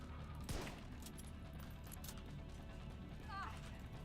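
Gunfire from the online shooter game The Division 2, a quick burst of shots near the start followed by clicking mechanical weapon sounds and faint high tones against steady game noise.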